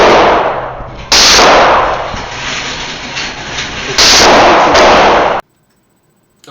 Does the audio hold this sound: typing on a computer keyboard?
no